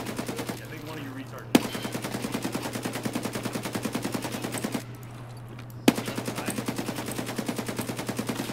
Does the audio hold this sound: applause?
no